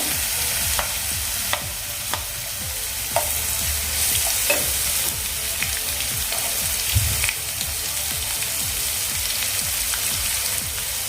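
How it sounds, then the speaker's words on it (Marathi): Chopped onions, two large ones, frying in a pan for a methi bhaji, a steady loud sizzle with repeated scrapes and clinks of a spatula stirring throughout, no voices. "आता यामध्ये आपण दोन मोठे कांदे चिरून घेतलेले आहेत ते घालून घेऊया"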